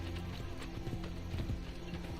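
A horse in Assassin's Creed Brotherhood gallops across open ground, a quick rhythmic clip-clop of hooves at close range over a steady low game backdrop, with no talking.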